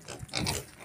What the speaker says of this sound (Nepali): हजुरहरूले बुङ्गुरको दर्शन गरिहाल्नुभयो होला है।